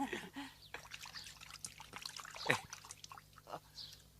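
Clean water poured out, trickling and splashing in a short, faint stream with a few drips, heard in a quiet room.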